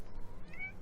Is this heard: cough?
no